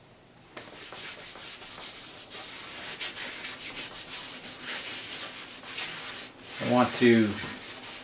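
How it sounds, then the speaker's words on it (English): A brake drum being scrubbed clean before powder coating: steady, close rubbing and scouring strokes that run almost throughout, with a louder burst near the end and someone speaking briefly over it. "I want to start by thoroughly cleaning my brake drum."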